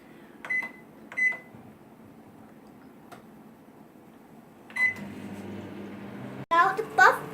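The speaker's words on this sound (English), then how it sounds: "Now the oven is preheated. Set the temperature for 200 degrees." An oven set to 200 degrees for baking egg puff pastry gives a few short electronic beeps, then settles into a low, steady running hum, with clicks and a brief voice near the end.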